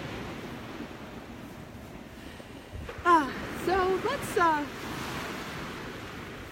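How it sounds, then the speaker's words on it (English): Ocean waves breaking on a beach at sunrise, a steady wash of surf and wind noise throughout, with a few short bird-like calls rising over it midway and a single spoken word at the start. "let's take a last minute here and enjoy the sound of the waves, and this beautiful view"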